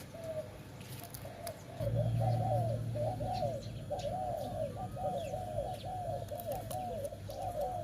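Soft, repeated coos of a zebra dove roll in a steady rhythm over a quiet outdoor background with low rumbling, moderately near.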